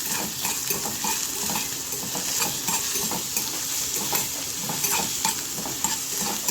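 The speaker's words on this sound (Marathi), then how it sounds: "कांदा आपल्याला छान भाजून घ्यायचा आहे" Onions sizzling in hot oil with curry leaves in a wok, with repeated scraping stirs of a utensil against the pan, close and continuous.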